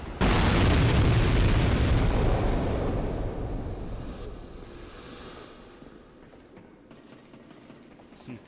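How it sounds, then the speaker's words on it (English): A huge video game explosion erupts with a loud, broad roaring blast that holds for a few seconds, then slowly rumbles and fades away into a quiet tail. "Such a loud explosion."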